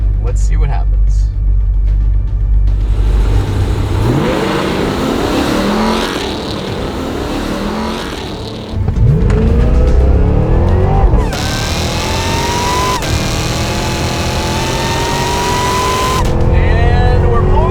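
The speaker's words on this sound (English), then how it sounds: "We have the Escalade-V Hennessey H850 package lined up against a stock Ram TRX" A Hennessey H850-tuned Cadillac Escalade-V and a stock Ram TRX pickup launch side by side in a drag race, engines roaring loudly up through rising gear changes, with tire noise and commentary over the top.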